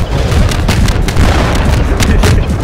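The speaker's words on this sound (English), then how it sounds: "I hope someone saw that rocket" A rocket explosion in Gmod VR booms loudly and up close, followed by a rolling rumble with sharp pops and cracks layered through it, and no voices.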